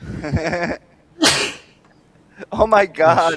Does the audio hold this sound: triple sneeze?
yes